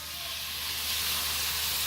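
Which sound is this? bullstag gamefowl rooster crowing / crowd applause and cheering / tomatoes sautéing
tomatoes sautéing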